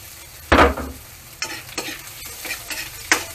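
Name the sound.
garlic frying in a pan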